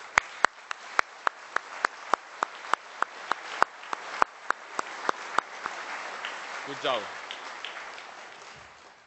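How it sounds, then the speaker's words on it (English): Scattered, evenly spaced claps from an audience at the ICASSP conference, honoring the organizing committee, crisp and fairly near, gradually thinning out as a voice speaks briefly near the end. "help me in giving them a big round of applause"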